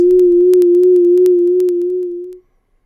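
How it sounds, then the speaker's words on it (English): A steady pure sine tone, held for about two and a half seconds with a slight wavering in pitch between 440 and 460 Hz, then cutting off abruptly. "We can make it go up and down from 440 to 460"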